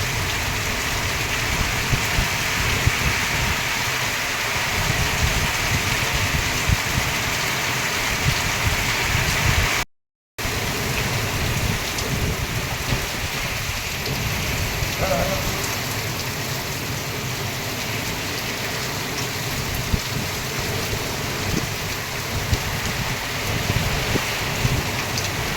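Heavy rain pours steadily with gusting wind in a storm that follows scorching heat, a dense continuous wash with no voices and a brief dropout near the middle; no distinct thunderclaps stand out.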